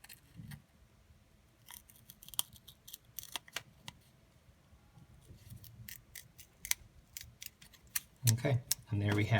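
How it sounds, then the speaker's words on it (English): Scissors snip slowly through thin glider wood parts, giving a series of irregular crisp cuts and clicks at close range, with a low voice and handling noise near the end. "you're using scissors, just go slowly so that you don't break the wood."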